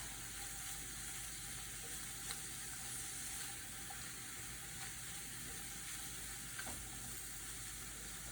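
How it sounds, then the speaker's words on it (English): Tofu browning in a hot pan for a vegetable stir fry, a constant soft sizzle and hiss of frying with a few faint clicks, close and steady, with no one speaking. "So I just let the tofu brown"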